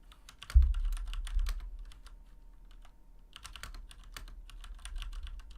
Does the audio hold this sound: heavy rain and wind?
no